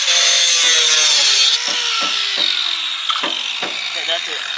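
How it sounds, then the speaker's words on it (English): An angle grinder whines loudly on metal on a kei truck, a steady high screech that cuts off partway through, followed by a series of sharp scraping knocks. "I'm gonna have to grind that."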